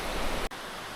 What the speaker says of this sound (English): You got the sound of the babbling brook right there